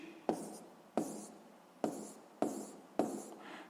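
Numbers are written by hand, likely on paper, during a physics exercise: five separate pen strokes, each starting with a sharp tap followed by a short scratching trail, quiet and close.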